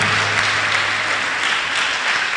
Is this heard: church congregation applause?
yes